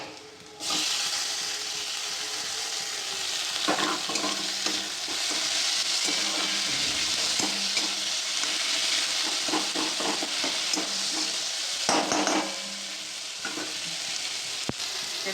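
Continuous loud sizzling of tomato frying in a pan, with occasional stirring scrapes and clinks breaking through the steady hiss, close by and without voices.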